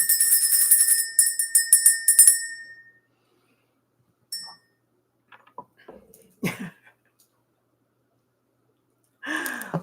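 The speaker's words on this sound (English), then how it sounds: "Let's ring the bell." A small bell is struck and rung repeatedly in a quiet room as part of an energy-clearing ritual, bright ringing strikes with a clear decay over the first couple of seconds, followed by scattered soft sounds and a brief voice.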